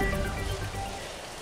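Heavy, nonstop rain pours down during flooding in Laurel, Batangas, a dense, even roar of falling water that fills the whole moment with no voices.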